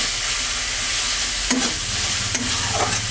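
Onions frying in a pan for a curry give a loud, continuous sizzle, with a couple of sharp scrapes as a spatula stirs them.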